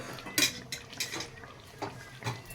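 Fried potatoes tip into a pot of chicken biryani with a few clanking knocks of a utensil against the metal pot, close by and spaced irregularly, over a faint background of cooking noise.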